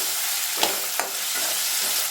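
Tomato chutney ingredients sizzle steadily in a hot pan, with a couple of soft scraping stirs cutting through the constant frying hiss.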